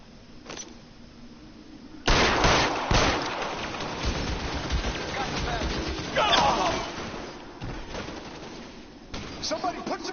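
Gunfire in the video game L.A. Noire, bursts of shots over busy game noise with voices talking through much of it, loud and sustained from about two seconds on.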